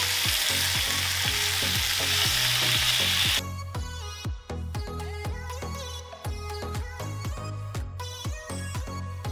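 Bacon-wrapped chicken sizzles on a Weber Baby Q gas grill as the bacon crisps and renders: a loud, dense crackling hiss at first, then thinner spitting pops, with clicks of tongs turning the pieces.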